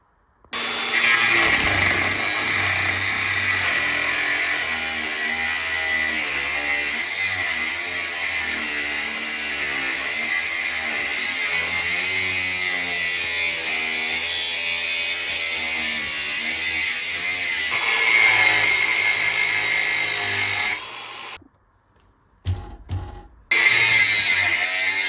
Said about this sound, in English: I'm just gonna grind away all this access stuff